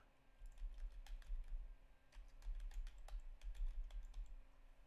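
Quick bursts of clicky keystrokes on a computer keyboard, close and fairly quiet, tapping in irregular runs over a low steady hum.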